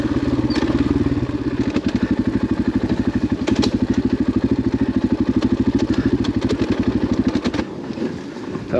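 A KTM 500 XCF-W dirt bike on an off-road trail, its engine thumping in a steady rapid pulse with wind and clatter, then cutting out near the end, leaving quieter rustling.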